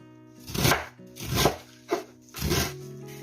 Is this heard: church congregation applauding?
no